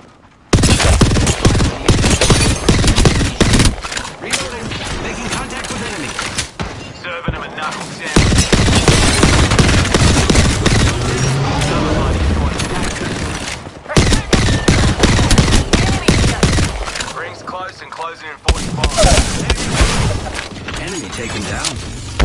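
Knuckle cluster weapon firing in a video game: dense, loud bursts of rapid gunfire and crashing impacts in long stretches with short gaps, with voices talking over it.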